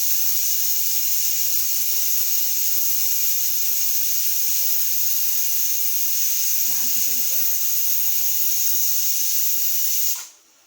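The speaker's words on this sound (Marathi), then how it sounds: "झाकण लावून आता पाच सहा शिट्या काढून घेऊया" A pressure cooker hisses steadily while mutton curry cooks inside, a loud, continuous high steam whistle that runs for about ten seconds and then cuts off abruptly.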